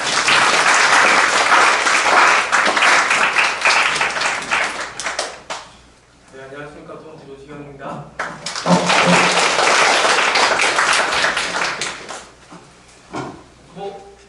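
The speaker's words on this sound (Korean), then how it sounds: "큰 박수로 부탁드립니다" Loud, dense applause from a lecture-hall audience welcoming a professor to a university lecture on microplastics, filling the first half, briefly dropping while someone speaks into a microphone, then surging again before tapering off.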